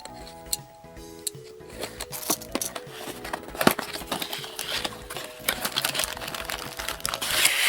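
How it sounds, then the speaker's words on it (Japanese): Plastic packaging crinkles and rustles as a Time Bokan 24 Kumo Motor mecha toy is unwrapped, with irregular crackling handling noises that grow busier and louder toward the end, without any talk. "それでは開封していきます。"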